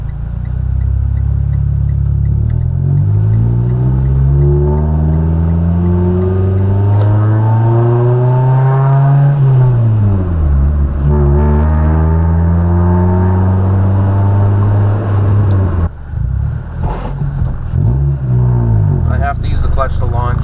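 Manual car with a broken first gear launching in second, its engine revving up in long climbing and falling sweeps, loud and close, with talking over parts of it.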